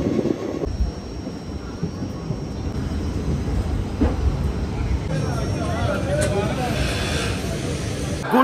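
The 12311 Netaji Express from Kolkata toward Shimla runs with a steady, loud rumble and rattle of the carriages that continues throughout, with murmuring voices inside the coach.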